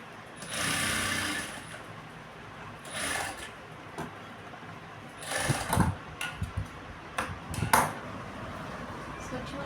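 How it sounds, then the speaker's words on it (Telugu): Sewing machine stitching along the edge of a saree, running in several short bursts of mechanical whirring with brief pauses between them, fairly close and moderately loud. "ఇలా నీట్గా అయితే స్టిచ్ చేసుకుంటూ వెళ్ళాలండి."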